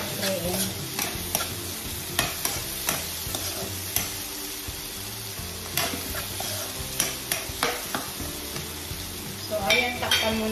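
Sweet potato fries in a pan while being stirred: a steady sizzle runs throughout, broken by repeated scraping strokes and occasional clinks of a utensil against the pan.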